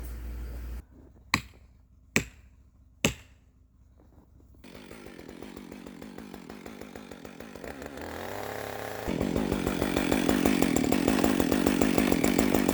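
Felling a tree with a chainsaw in deep-snow winter woods beside a cabin at minus 25: three sharp knocks come first, then a chainsaw idles and revs up into a loud, sustained cut close by, with no talking.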